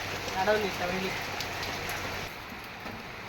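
Steady rain falling outside a home, a soft continuous hiss of drops on surfaces with a brief murmur of voices early on, moderately faint throughout.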